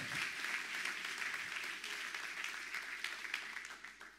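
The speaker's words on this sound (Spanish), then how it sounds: "Si vos lo crees, dale un aplauso al que vive." Church congregation clapping after a pastor's call to praise, a faint, steady patter of applause from a room of people.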